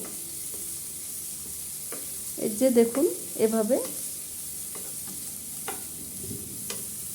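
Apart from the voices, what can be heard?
onion and chili powder frying in a pan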